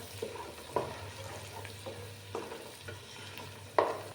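Chilli powder mixture sautéing in a pan for homemade chilli chicken, with a steady low sizzle and a few sharp stir-and-scrape knocks spaced about a second apart. No one is talking.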